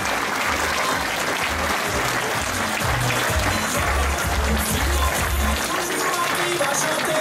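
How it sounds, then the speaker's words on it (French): A crowd gives sustained applause for the podium at a rally awards ceremony, a dense continuous wash of clapping from many hands throughout, with a voice speaking over it. "On applaudit de nouveau ce podium."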